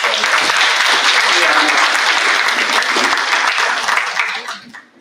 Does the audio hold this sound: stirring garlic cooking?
no